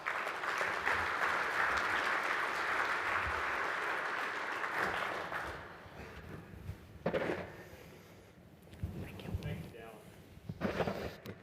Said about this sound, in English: As we welcome Jeff to the stage, can we give Baillie and him a round of applause?